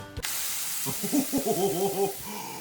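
Hot coconut oil hisses steadily with a loud spray-like sizzle, bubbling and popping in quick uneven bursts close by.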